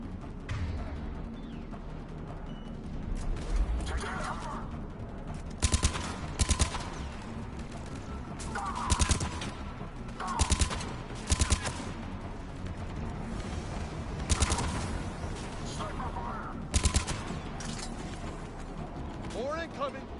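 Gunfire crackles in a Mass Effect 3 video game battle as short bursts of shots repeat at irregular intervals over mechanical clatter and a steady background rumble, with voices calling out nearby.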